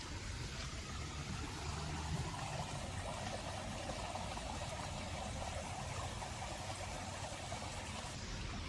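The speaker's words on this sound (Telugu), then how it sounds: "వినపడుతుంది వాటర్ సౌండ్" Continuous flowing water in a recreated stream in Las Vegas, a steady broadband rush that holds even throughout, with faint background hum and no talking.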